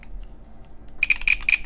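Electric buzzer sounding in short harsh bursts after a quiet start, about four rapid pulses with a shrill metallic ring, loud and close, no talk.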